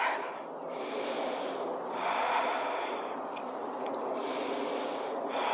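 Steady breathing during a yoga trapeze flow, slow audible inhales and exhales in long, even waves, close and fairly soft with no talking.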